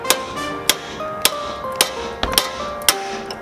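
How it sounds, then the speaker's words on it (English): Metal taps ring out as a socket extension is struck against a Nissan 350Z Z33 tie rod, about eight sharp, resonant hits at an uneven pace, close and alone. "Now I'm gonna use this socket, I mean this extension, and try to tap this tie rod down out of here."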